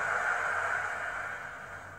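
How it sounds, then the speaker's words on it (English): A steady hiss of surf, like waves washing continuously onto a shore, holding even and fairly loud before easing slightly at the end. "The waves crashing."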